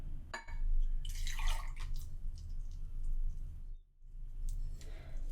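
Liquid poured into a bowl of cupcake batter ingredients, a soft steady trickle and splash lasting several seconds, close and fairly quiet.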